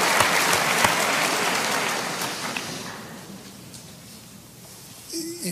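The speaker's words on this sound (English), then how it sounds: "I think that deserves an applause." Audience applause at the MIT AeroAstro Centennial Symposium during a conversation with Elon Musk: a loud burst of crowd clapping that gradually thins and dies away into quiet room tone.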